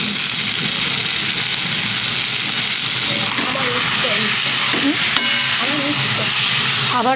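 Chicken cooks in a pan with a generous amount of Kashmiri red chilli powder, producing a constant loud sizzle while a utensil stirs and scrapes through it, with occasional clinks.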